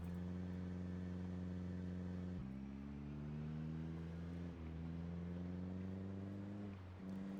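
A car engine drones steadily through its muffler, a deep harmonic exhaust tone that shifts in pitch a few times as revs change, sustained and fairly close.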